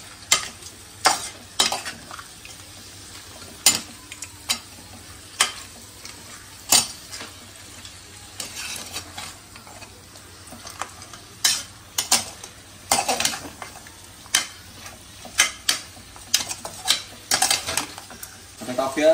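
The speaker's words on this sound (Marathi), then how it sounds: "हळद टाकूया आता आपण थोडीशी. आता थोडीशी याच्यामध्ये हळद टाकूया. त्याला थोडंसं परतून घेऊया" Mutton masala with turmeric being sautéed in a pan, a faint steady sizzle broken by frequent sharp scrapes and clinks of a spoon stirring against the metal, irregular and close.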